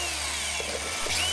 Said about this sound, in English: I'm using the aluminum as a template for where to drill the holes through the plastic.